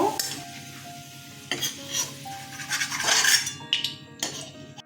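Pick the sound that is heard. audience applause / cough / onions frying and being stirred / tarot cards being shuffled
onions frying and being stirred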